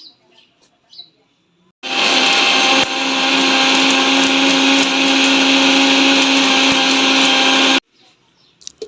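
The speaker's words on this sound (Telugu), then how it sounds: "మిక్సీ జార్ తీసుకొని మిక్సీ అయితే పట్టేసేయండి" A mixer grinder grinds a dry powder, whirring loudly and steadily for about six seconds, starting and stopping abruptly, with faint kitchen sounds before and after.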